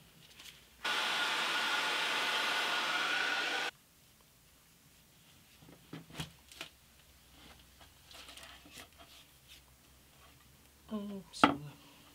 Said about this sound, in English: I'm going to heat this up with my hairdryer first.